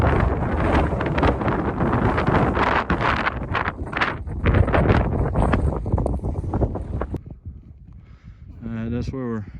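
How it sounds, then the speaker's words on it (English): Strong wind on a mountain summit in the Presidential Range of the White Mountains, a loud continuous roar buffeting the microphone with gusts, easing near the end as a voice briefly speaks. "I know it's windy"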